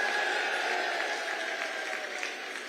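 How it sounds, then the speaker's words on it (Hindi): Dense, steady applause from a large audience fills a political rally in Jagadhri, Haryana, loud and continuous before fading slightly toward the end. "जोर से ताली बजाओ सैनी जी के लिए"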